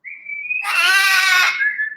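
A clear human whistle to a pet bird holds a steady tone, then a buzzy, harsh bird-like call rises over it before the whistle continues alone.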